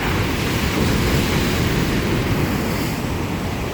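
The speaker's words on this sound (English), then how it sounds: "Look at the size of these waves." Big ocean waves crash against the rocky shore at Puerto de la Cruz, Tenerife, in a loud, continuous roar of surf mixed with wind buffeting the microphone, with no voices.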